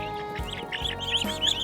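A chicken clucking nearby in a rural farmyard, a run of short repeated clucks over a steady background hum, with no one speaking.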